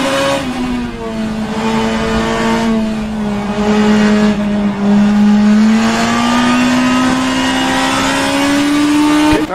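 A BMW M3 E92 GTE race car engine in rFactor 2 at Oschersleben drones loudly and steadily, the pitch dipping and climbing through gear changes as it accelerates, heard close from the cockpit without talk.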